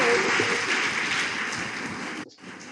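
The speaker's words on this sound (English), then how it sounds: "Give her a big round of applause, everyone." Lecture audience applauding, a dense burst of clapping that holds steady and then cuts off abruptly near the end.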